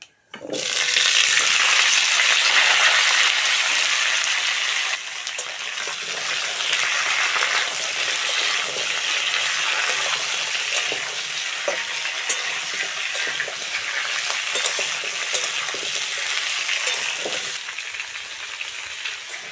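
Dried red chillies, bay leaf and five-spice temper in mustard oil before pumpkin and potato go in, giving a loud, dense, continuous sizzle after a sharp initial burst, with scattered stirring scrapes throughout.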